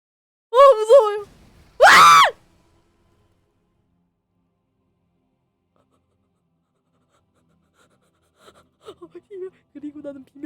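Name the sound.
scream in a horror video game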